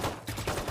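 Rapid sniper-rifle gunfire from the Marshal in the Valorant video game, several sharp close shots cracking in quick succession within less than a second.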